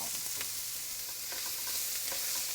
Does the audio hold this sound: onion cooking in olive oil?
yes